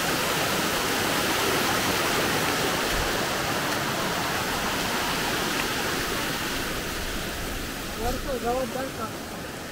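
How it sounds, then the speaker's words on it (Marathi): Water rushing down small rocky falls along a monsoon forest trail toward Kelavali waterfall in Satara, a loud continuous roar of flowing water filling the whole stretch, with a brief murmur of voices near the end. "आणि हा बघा पाण्याचा प्रवाह."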